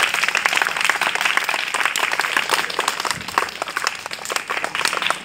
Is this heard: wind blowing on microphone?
no